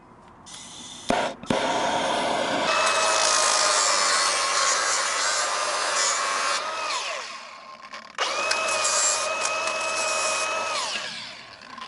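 Angle grinder cutting and grinding down car bodywork on an Alfa Romeo Giulietta widebody build: a sharp clank, then a loud sustained high-pitched whine that winds down, pauses, and starts again, close up with no talk.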